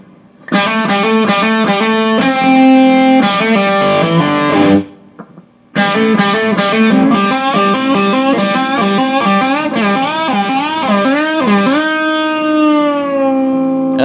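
Distorted electric guitar plays the live version of a solo, with fast picked runs, a brief pause, then wide string bends and a long bend released slowly, loud and up close.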